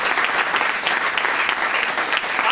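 Audience applause at a motivational speech: dense, steady clapping from a crowd that fills the moment without pause.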